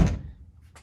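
A car door swings open on its hinge, which sits on top of a bracket: a single close, dull thunk at the start, followed by a faint low rumble and a brief soft rustle near the end.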